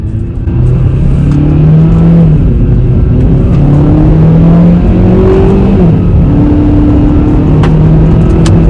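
A 2016 Hyundai Veloster Turbo engine revs loudly close by, its steady drone climbing and falling through several throttle blips over a constant low rumble, with no talk.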